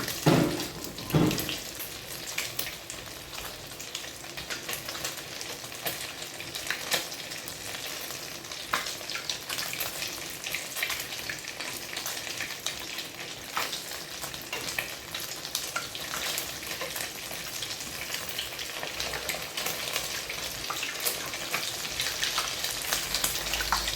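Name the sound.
cheesy hotdogs frying in hot oil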